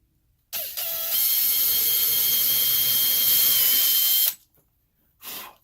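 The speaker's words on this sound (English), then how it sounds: "I'm going to take my trusty old 1/8 inch bit right into the hole it goes." Power drill fitted with a 1/8 inch bit boring out small screw holes, one steady high whine lasting a few seconds at close range, followed by a brief second burst.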